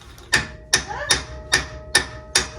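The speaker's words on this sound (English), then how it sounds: "I'm gonna take a hammer," Six sharp metallic hammer taps on the rear brake caliper parts of a 2003 Chevy Silverado, evenly spaced about every half second, close up with a bright ringing edge.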